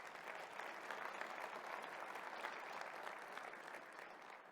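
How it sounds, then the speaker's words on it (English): Audience applause at a corporate forecast event, a full, sustained wash of many hands clapping at even loudness, moderately distant, with no voices over it. "So I appreciate you giving them a round of applause"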